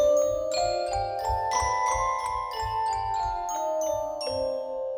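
A C melodic minor scale played as a trailer-music demonstration, with bright synth or piano notes stepping one after another over a sustained low pad. No one speaks.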